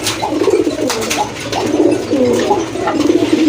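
Fancy pigeons at a loft coo in soft, overlapping, rolling calls, close and continuous, with no voices over them.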